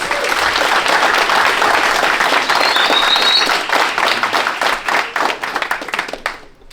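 Loud, dense applause from a crowd at a boxing and combat sports awards event, sustained for several seconds and then thinning into scattered claps as it dies away.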